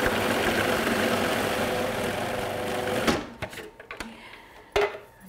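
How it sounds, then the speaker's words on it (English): Food processor quickly whizzing garlic, chilies, coriander and egg for lamb kebabs, a loud steady motor whir for about three seconds that then stops, followed by a few scattered clunks and taps. "And then you put the lid on and give it a quick whiz."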